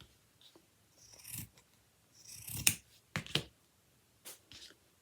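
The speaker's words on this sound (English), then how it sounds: "So I am just going to cut the toe off." Scissors snip through the toe end of a fabric sock in a few crisp, close cuts spread across a quiet stretch, with short pauses between each snip.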